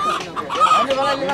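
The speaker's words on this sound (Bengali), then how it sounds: "এই যে বড় সাইজের টাইগার মোরগ" A tiger rooster clucking at a busy rural poultry market in Bangladesh, loud and close, with short repeated clucks over a background of market voices.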